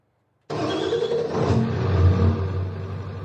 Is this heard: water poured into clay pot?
no